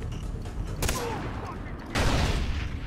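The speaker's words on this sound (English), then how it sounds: "This machine gun is great." Machine gun bursts in the video game Far Cry 3, sharp broadband volleys around one and two seconds standing out over dense, steady battle noise.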